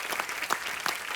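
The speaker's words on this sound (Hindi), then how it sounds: "एक बार जोरदार तालियां हो जाए हमारे" Studio audience on The Kapil Sharma Show bursts into dense, steady applause, loud and close, with a few sharper claps standing out over the short burst.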